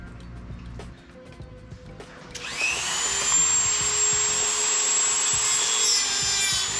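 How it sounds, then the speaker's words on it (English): A Dremel cuts a slit into a stuck pressure plate bolt on a BMW E30 325i convertible: faint workshop clatter first, then a loud steady high-pitched whine of the rotary tool grinding metal, held close. "now we're going ahead and cutting a slit in the bolt itself to try and get a flat head in there"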